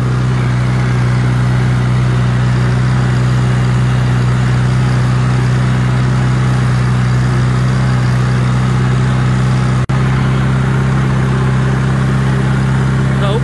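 A 1974 International Loadstar 1600 truck with a rebuilt 245 engine idles in a steady, low rumble, close and continuous, with one brief sharp click near the end.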